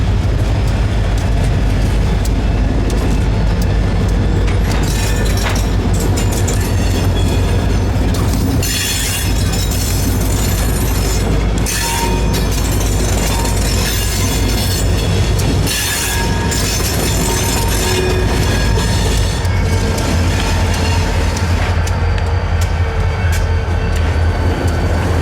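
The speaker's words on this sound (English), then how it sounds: "The first order of business was to shuffle this shorty hopper out of the consist and onto the head end." An Alstom-rebuilt SD40-3 locomotive of the Aberdeen Carolina and Western shuffles a short hopper car, with a loud rumbling engine, clanking couplers, clicking wheels and squealing flanges, continuous and close throughout.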